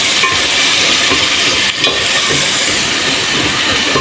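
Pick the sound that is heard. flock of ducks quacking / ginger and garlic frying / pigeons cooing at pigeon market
ginger and garlic frying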